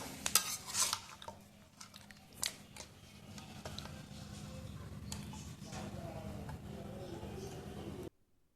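A spoon scrapes and clinks against a pot while a thin chicken curry is stirred over a clay stove, steady and fairly quiet beneath a low hiss of cooking, with a few sharper knocks early on.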